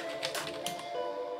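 Typing on a Corsair K57 RGB Wireless keyboard, a quick flurry of close, crisp key clicks in an uneven rhythm that thins out toward the end.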